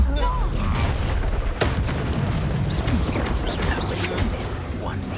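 Depulso spell cast in the Hogwarts Legacy video game, a dense, loud rumbling blast with crashing impacts amid ongoing combat effects, continuous and close without pause.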